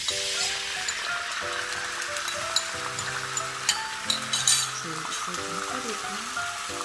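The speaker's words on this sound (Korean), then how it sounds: "한번 볶아볼게요" Japchae glass noodles with seasoning are stir-fried in a pan, a steady loud sizzle with clatter of stirring, while music plays underneath.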